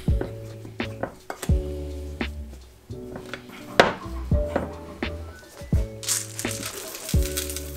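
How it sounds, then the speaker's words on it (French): Vegan cookie dough is worked together with plant milk in a bowl, giving a series of rhythmic knocking thuds and scrapes of a utensil against the bowl, close and fairly loud, with no talking. "Tu mélanges et tu auras un beau pâton."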